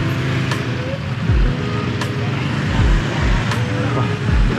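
Cars and motorbikes pass one after another along a busy rainy street in Ubud, Bali, a steady close roadway rumble with several swells as vehicles go by, and no talking.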